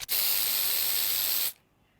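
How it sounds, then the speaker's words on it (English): A spray paint can hisses in one steady, loud burst lasting about a second and a half, then cuts off abruptly into near silence, with no voices. "She thinks she's Banksy, but with more attitude and a lot more spray paint"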